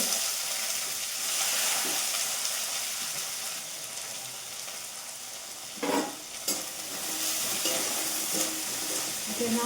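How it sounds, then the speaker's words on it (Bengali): Oil sizzling and hissing steadily in a pan on the stove, heating up for frying fish, with a couple of brief clinks partway through. "আগে মাছের তেলটা বসিয়ে দিই, তারপরে মাছের তেল হতে হতে মাছটা কেটে নেবো।"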